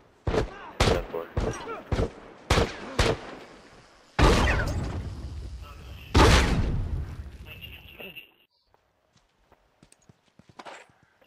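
Gunfire in The Last of Us: a rapid series of loud, sharp shots, then two heavier booming blasts with long decays, followed by quieter scattered clicks and shuffling.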